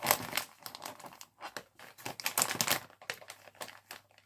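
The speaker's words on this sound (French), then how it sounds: "je vais le remettre aussi dans son sachet" A thin plastic blind box sachet crinkles and rustles in bursts as a small collectible figure is pushed back inside, close and fairly quiet, with no talk.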